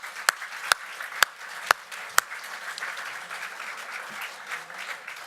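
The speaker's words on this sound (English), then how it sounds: "Please give them a round of applause." Brief applause for sponsors at an anniversary webcast: a handful of sharp, separate claps near the start over a steady soft patter of clapping from a modest audience, fairly quiet and continuous without voices.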